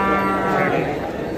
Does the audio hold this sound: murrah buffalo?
yes